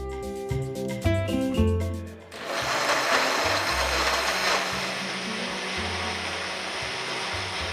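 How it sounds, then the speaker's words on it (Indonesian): A kitchen blender whirs loudly while blending garlic, shallots and ginger for a Malaysian coconut milk dish, starting with a few choppy pulses before settling into a continuous dense roar. "Barang-barang tu nak di blender, di blend bawang tu"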